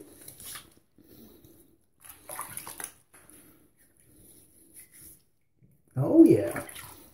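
A brief splash of water close by as a face is rinsed after a straight razor shave, coming near the end after a few faint, scattered handling sounds.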